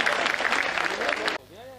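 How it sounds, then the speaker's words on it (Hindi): An audience at a Hindi poetry gathering (kavi sammelan) applauds poet Ram Bhadavar, with a short burst of dense clapping that cuts off abruptly, followed by a brief tonal sound. "बहुत जोरदार तालियां राम भदावर।"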